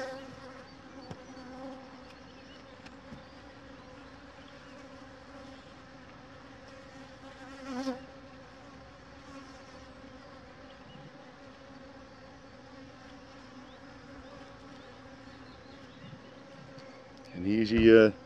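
Honeybees buzz steadily throughout an inspection of a Dadant hive, a close, continuous drone with a brief louder swell midway and another near the end.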